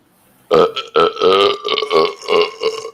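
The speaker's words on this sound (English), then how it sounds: "you didn't have bass on that because you were trying to sing with your burp" A long, loud, voiced burp stretched into a wobbly, sung-like tone in several swells over about two and a half seconds, starting abruptly after a brief near-silent moment.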